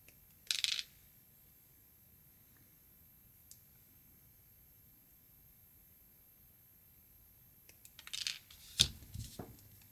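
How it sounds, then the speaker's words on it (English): Cutters snipping jewelry wire while making wire-wrapped triangle hoop earrings: a sharp click near the start, a tiny tick later, then a cluster of crisp snips and clicks at the end, close and fairly quiet. "Then we just snip the wire."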